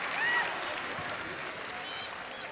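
Faint, distant stadium crowd at a Chelsea v Manchester United women's football match, with a swell of clapping and murmur under a commentator's voice.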